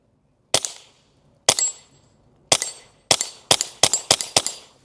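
Rapid gunshots from a .22 pistol fitted with a red dot sight: eight sharp, loud reports, two spaced apart and then a quickening burst of six, each with a short ringing decay.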